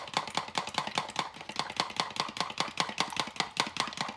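A fork beats egg yolks and whites together in a bowl, a fast, steady rhythm of sharp clicking taps, close and even, continuing without pause.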